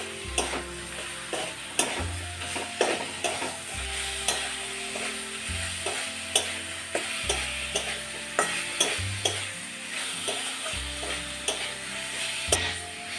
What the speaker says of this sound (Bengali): পটল দিয়ে আবার একটু কষিয়ে নেব।